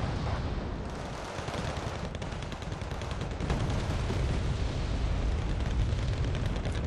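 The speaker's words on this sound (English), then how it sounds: "This was yet another good bombing run by an ally." A bombing run in Wargame: Red Dragon, a dense, continuous rumble of overlapping explosions and distant gunfire that barely lets up for the full stretch.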